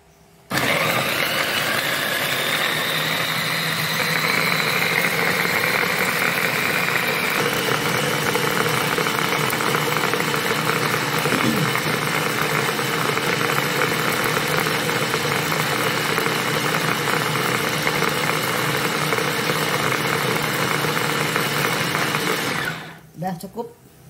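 A kitchen blender puréeing tomatoes for a chili sauce runs loud and steady at close range for about twenty seconds, with a slight shift in pitch partway through, then stops abruptly.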